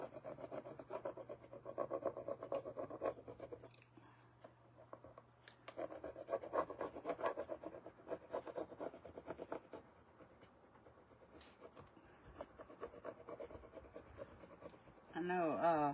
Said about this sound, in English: we're just going to go ahead and rub this on here